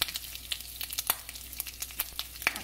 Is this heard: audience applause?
no